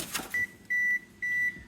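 A kitchen oven beeps to signal it has preheated to 350 degrees: three clear electronic tones, a short one followed by two longer ones, sounding alone in a quiet room.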